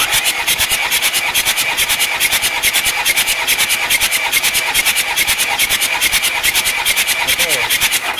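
Isuzu Panther 2.3 diesel engine cranking on its starter during a compression test, a steady fast rhythmic churn of regular pulses, loud and close throughout.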